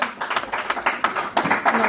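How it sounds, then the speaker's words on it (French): A church congregation claps and cheers in acclamation after a sermon passage, with quick rhythmic hand claps bunched in bursts and voices mixed in at close range. "De bonnes acclamations pour cette parole."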